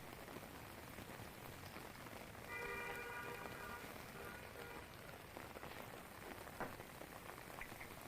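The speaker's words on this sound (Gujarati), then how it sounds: "મોડી સાંજે રાજપીપળા નજીકના વિસ્તારોમાં વરસાદ ખાબક્યો" Heavy monsoon rain pours down in Rajpipla, Narmada, as a steady, even hiss of drops striking surfaces that carries on without a break, fairly soft in level.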